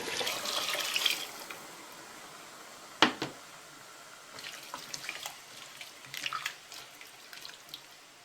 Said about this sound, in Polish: I całość zalewamy wodą z parzenia kiełbasy.